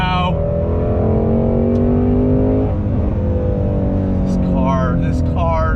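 Shelby GT350R with the 5.2-liter Voodoo flat-plane crankshaft V8 pulling hard under acceleration, its loud rasping note climbing steadily, then breaking off into a lower drone before climbing again near the end.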